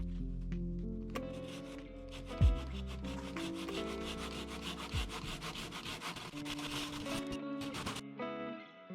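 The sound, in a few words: handsaw cutting into a wooden pillar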